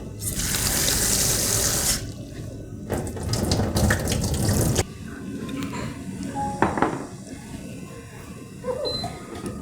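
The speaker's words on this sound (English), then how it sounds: "And then I will wash it in cold water." Rice cakes being rinsed under a running cold kitchen tap, water splashing steadily into a sink with brief pauses and clinks while the flow is adjusted; no one speaks.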